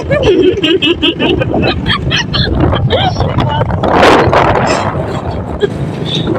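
Steady wind roars and buffets around a boat out on a choppy sea, waves splashing throughout, loud and continuous, with someone talking over it for most of the time.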